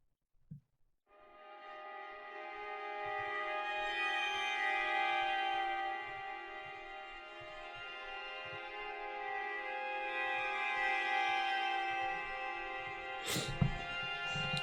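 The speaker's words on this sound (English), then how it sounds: "It is the Spitfire Labs Frozen Violin" Spitfire Labs Frozen Violin virtual instrument swells in after a brief click into a sustained, shimmering string pad, held tones slowly rising and falling in loudness with faint low rumbles underneath, ending with a short sharp noise.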